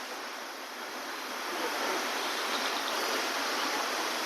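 A forest waterfall pours with a steady, close rushing roar of water that swells slightly louder partway through, with no voices.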